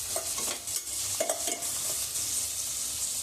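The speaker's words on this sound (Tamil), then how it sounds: "இப்போ நல்லா வெங்காயம் வதங்கி வந்துடுச்சு" Onions sautéing in a pan for prawn biryani produce a soft, steady sizzle with a few light scrapes and clinks from stirring, fairly quiet and close, without any speech.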